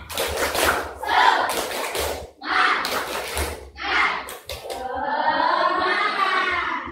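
Schoolchildren in a fifth-grade classroom do a rhythmic spirit clap, several bursts of group clapping in a patterned beat, followed by voices chanting together near the end.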